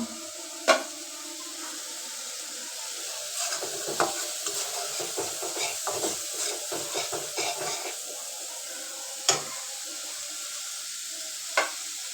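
Spice paste sizzling in oil in a pan on a home stove while being stirred for a pumpkin and prawn curry, a steady fry hiss broken by clusters of utensil scrapes and a few sharper knocks, with no voices.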